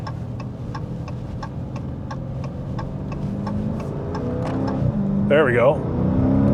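Dodge Challenger in sport mode pulling onto a highway, engine note climbing steadily in loudness under a regular ticking, with a brief tonal sweep near the end and a person speaking briefly.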